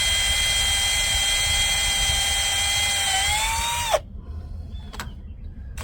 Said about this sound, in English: I'm gonna drill this out